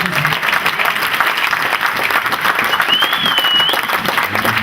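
A church congregation breaks into steady applause during a French-language sermon. The clapping stays dense and even for a few seconds, with a faint thin whistle-like tone partway through.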